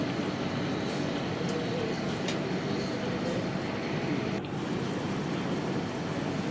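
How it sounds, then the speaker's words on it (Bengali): Rice and pointed gourd boiling in a pot, a steady close bubbling hiss and roiling rumble that runs unbroken throughout with no talk. "এটাকে আমি ফুটতে দিচ্ছি তাতে চাল আর পটল সেদ্ধ হয়ে যাবে"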